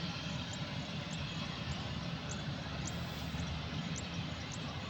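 A Cebu Pacific jet airplane roars steadily on takeoff, a broad continuous rumble of engine noise heard from a distance, with no talking.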